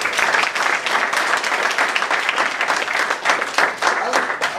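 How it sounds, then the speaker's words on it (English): Dense audience applause fills the space with steady, loud clapping from many hands, while a voice speaks briefly over it. "Let's give her another round of applause."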